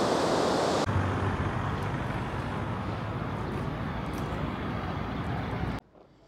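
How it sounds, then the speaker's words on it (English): Steady broadband rush of river water flowing beneath a bridge in Kongsberg, loud and continuous with no voices, cutting off abruptly near the end. "there's still a healthy amount of water flowing down here"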